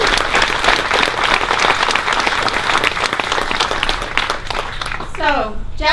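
Crowd at a solidarity vigil in San Jose Japantown applauding and cheering loudly for about five seconds, a dense steady wash of clapping with shouts mixed in, then a voice starts speaking over the tail end.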